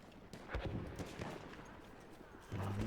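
Bursts of Battlefield 1 gunfire crackle in a short flurry, several sharp shots clustered early and a heavier volley at the end, somewhat distant and muffled.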